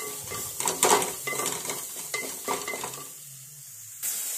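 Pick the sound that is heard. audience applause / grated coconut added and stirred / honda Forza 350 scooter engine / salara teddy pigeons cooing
grated coconut added and stirred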